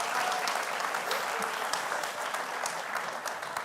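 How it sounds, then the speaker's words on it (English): Applause from a conference audience at YoastCon 2023, a continuous crowd of clapping hands at moderate distance, steady throughout with small flickers of individual claps and a faint murmur beneath. "Give him a big applause."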